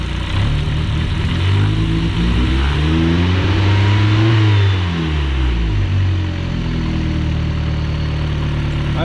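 Engine of a BT GLI car revved up toward 3,000 rpm and let go, the loud close drone rising steadily in pitch, peaking, then falling back to a rough idle, with no talking.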